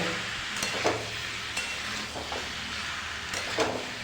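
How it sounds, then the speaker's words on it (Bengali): Large prawns frying in a pan for a Bengali-style dish, stirred with a utensil: steady sizzle with several scraping strokes against the pan, close and moderately loud, with no talking. "আবারও ভালো করে নাড়া দেবো"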